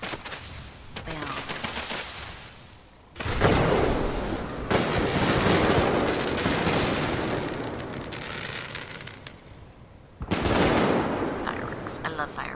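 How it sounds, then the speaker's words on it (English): Fireworks burst in the video game Fallout 4, a series of loud, booming blasts with crackling tails arriving in bursts and separated by quieter gaps, with someone speaking briefly over them. "Some fireworks. I love fireworks."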